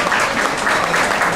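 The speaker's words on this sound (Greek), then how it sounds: "Ένα χειροκρότημα." Audience clapping at a gold record award ceremony, a short burst of dense, fairly loud applause that holds steady throughout.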